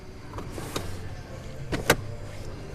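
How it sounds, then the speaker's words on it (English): Rear seat of a 2018 Porsche Cayenne folded down by hand with a lever: a few quiet clicks and mechanical thuds over a low interior hum, with one sharper latch clack near the end. "have to fold the seats down manually"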